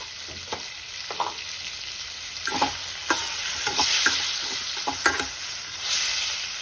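A pan sizzles steadily for pumpkin curry as asafoetida goes in, with scattered sharp clicks and scrapes of a spoon stirring nearby.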